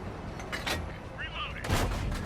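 Tank cannon fire in a video game, heard as a low booming blast with rumbling tail near the end, following a quieter stretch of engine rumble and in-game voice chatter.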